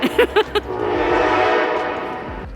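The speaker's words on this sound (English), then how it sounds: "There's a train." A train passes close by in a coastal town, a rumbling, steady wash of rail noise that rises and holds, with its horn blaring in several short loud blasts at the start; a brief voice appears at the very end.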